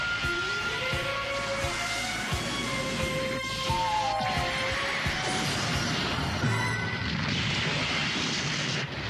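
Bombs exploding in an English-dubbed anime battle between Aura Battlers, loud continuous crashing blasts and rumbling booms layered over whining tones and battle effects, with no pauses.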